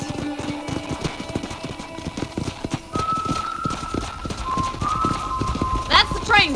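Rhythmic horse hoof clip-clops trot along under ongoing talk in the video game Red Dead Redemption, with a steady tonal hum and a brief bright chime near the end.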